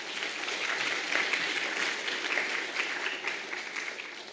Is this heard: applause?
yes